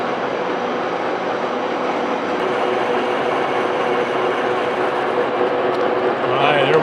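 A lathe boring bar cuts steadily inside a steam stoker engine valve sleeve, giving a continuous, close, even metallic grind with a faint change in tone partway through and no pauses.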